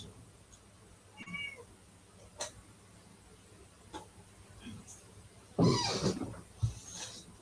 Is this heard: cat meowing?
yes